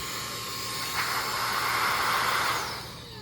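A Meco air duster fitted with a medium-sized nozzle blows a strong, steady rushing hiss of air that swells briefly, holds for a few seconds close up, then starts to fade, with no talking.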